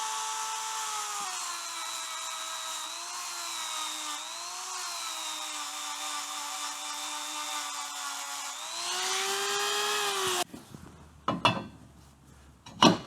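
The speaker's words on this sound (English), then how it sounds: "I'm just going to use a spiral roll and my die grinder" A die grinder fitted with a spiral roll cuts a hole in metal for a Tiger Cub cylinder head fixture, its steady high-pitched whine running loud and close with slight pitch wavers, rising briefly before cutting off, followed by a few sharp clanks and knocks.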